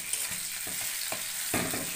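Tomato is stirred into onions frying in a pan, giving a quiet sizzle with several short spatula scrapes close by.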